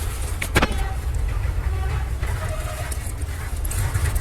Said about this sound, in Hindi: रोड पे ट्रैफिक चल रही है उसकी आवाज।